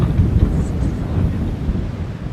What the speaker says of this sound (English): You can probably hear the wind is whistling around